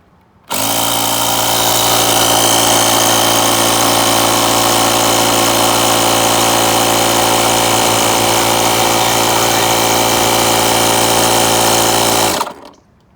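A portable air compressor built into a jump-starter battery box inflates a tire, running as a steady, loud mechanical drone with a constant buzzing hum that starts abruptly, holds unchanged for about twelve seconds, then cuts off.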